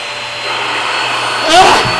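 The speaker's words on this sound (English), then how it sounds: "So this is the extractor vacuum." Wet extractor vacuum running steadily with a broad, continuous whine and hiss, swelling louder near the end as it sucks up liquid; close and alone.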